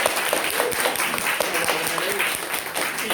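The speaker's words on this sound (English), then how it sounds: "Round applause to Dean." Audience applause for poet Dean Atta at a book launch during a Black and Asian writers conference, a steady full burst of clapping from a seated crowd lasting the whole moment.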